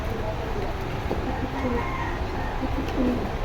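A breeding pair of pigeons, a male and a female kept with eggs, coo softly in a loft. The low, repeated calls sit under steady background noise, with a voice talking nearby.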